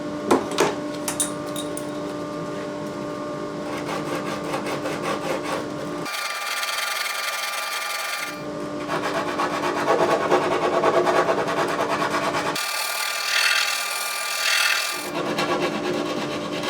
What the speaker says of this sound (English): I'll finish it off by hand with sandpaper wrapped around this selection of PVC